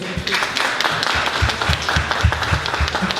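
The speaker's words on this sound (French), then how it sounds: "On peut l'applaudir, s'il vous plaît." A conference audience claps in a short burst of scattered, uneven applause that lasts throughout and sounds moderately near.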